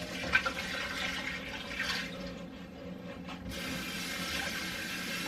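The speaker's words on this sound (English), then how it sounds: "Can you dump this water out for me, and so I can have the bowl to do the next part?" Water pours out of a bowl in a home kitchen while chicken tenders are being cooked, a splashy gush and trickle running for several seconds, close and moderately loud, with no talking.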